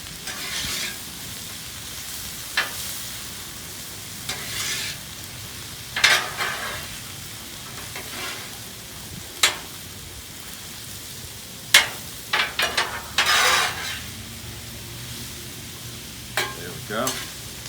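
Vegetables and mushrooms fry in oil on a Blackstone griddle, a steady soft sizzle broken by intermittent sharp scraping and clacking of a spatula stirring them.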